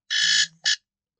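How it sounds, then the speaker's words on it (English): An alarm goes off alone with two loud, harsh electronic buzzes: a long blast, a short pause, then a brief second burst. "705 alarm."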